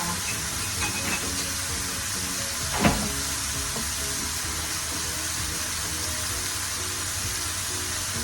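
Water is poured into a cooking pot holding ginger while paksiw na tulingan is prepared, making a steady, soft rushing hiss that runs throughout with one brief clink partway through.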